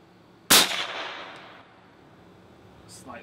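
A Benjamin Bulldog air rifle fires a single sharp, loud crack with a quick fading tail, aimed at water jugs set out at 100 yards, followed by quiet outdoor background and a faint trailing noise.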